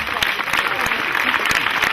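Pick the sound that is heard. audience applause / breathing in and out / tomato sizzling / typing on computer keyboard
audience applause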